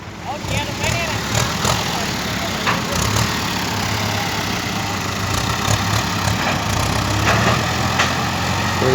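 A Ford 6610 farm tractor runs on an earth-moving job, its diesel engine giving a steady, loud, throbbing drone with faint clicks and rattles on top, and a voice may be heard at times.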